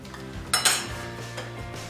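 Ceramic plates clink and clatter as they are lifted out and set down in a kitchen, with two sharp knocks close together followed by lighter rattles, alone without talk.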